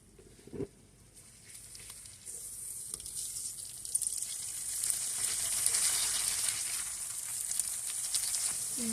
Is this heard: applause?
no